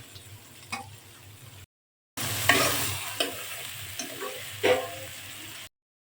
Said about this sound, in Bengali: জিয়াল মাছ কষানো হয়ে গিয়েছে, তুলে ফেলছি।